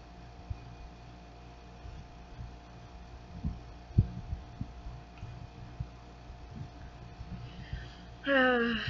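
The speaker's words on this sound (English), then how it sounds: "but I could only hear my own heartbeat" A slow heartbeat thumps at a steady pace under a low constant hum in a quiet, spooky night scene, with a sharp, bright squeal rising near the end.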